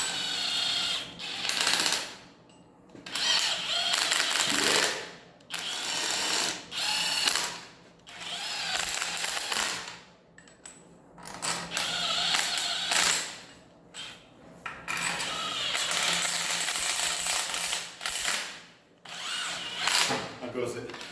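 A ratchet snugs the bolts lightly during final assembly of a Hummer Alpha 5.3 LH8 engine, clicking in repeated bursts separated by short pauses, close and fairly loud, with some voices talking in the background.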